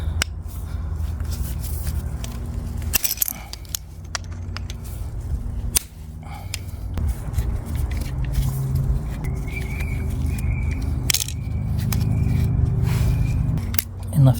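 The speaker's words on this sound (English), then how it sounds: "And let's remove the guides." Sharp metallic clicks and taps ring out at irregular intervals as brake caliper guides are worked loose on a Suzuki Burgman 400 K7 scooter's rear brake, over a steady low hum.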